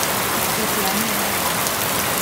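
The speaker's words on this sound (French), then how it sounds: "Il pleut trop, c'est horrible." Heavy rain pours on the slopes of Piton des Neiges on Réunion, a dense, loud, unbroken roar of drops close by, filling the whole moment without pause or voices.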